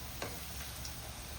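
Tamarind frying in oil in a home kitchen pan while making pirandai thuvaiyal, a faint, steady sizzle with a couple of soft stirring ticks.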